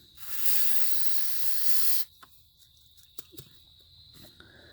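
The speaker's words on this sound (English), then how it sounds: "can of carb cleaner" Can of carb cleaner sprays in one loud, continuous hiss for about two seconds, then stops, leaving a quiet background with a few faint clicks and taps.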